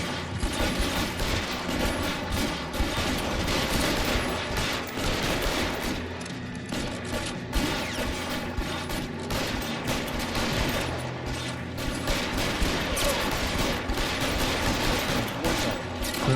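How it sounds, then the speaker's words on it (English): Heavy, continuous gunfire from the video game LA Noire rattles on almost without pause, loud and dense throughout, with no talk over it. "How many times you gotta shoot this guy?"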